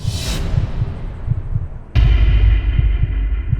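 A heartbeat sound effect in an animated scary story: slow, deep, evenly spaced thumps over a low hum that suddenly grows louder and heavier partway through, with no speech.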